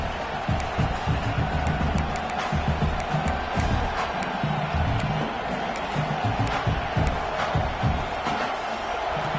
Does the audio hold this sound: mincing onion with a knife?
no